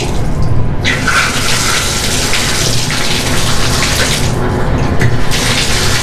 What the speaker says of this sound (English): so the water's back on now. Let's test it out.